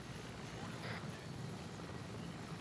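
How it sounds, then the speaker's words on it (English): Helicopter in the Arma 3 military game, a continuous rotor rumble throughout, with a brief brighter burst near the middle, heard at a moderate distance. "Helicopter. Inbound."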